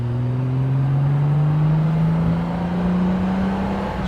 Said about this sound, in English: She revs out well, doesn't break up or anything like that